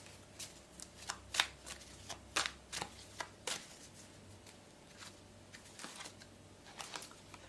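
Tarot cards shuffled by hand in a quiet room: a series of soft, quick riffling snaps in irregular bursts, close and fairly faint, with no talk.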